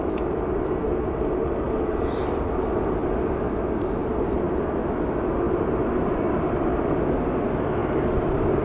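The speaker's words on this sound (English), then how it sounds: "there's British Airways Airbus A320 going to London Heathrow" A British Airways Airbus A320 takes off from Manchester Airport, its engines a steady, broad roar held at an even level throughout, with no voices.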